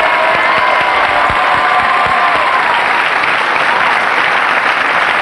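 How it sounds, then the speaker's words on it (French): Loud, close audience applause for a writer being introduced on a French television talk show, thick continuous clapping mixed with some cheering and whoops from the crowd. "je vous demande d'applaudir Alexandre Jardin"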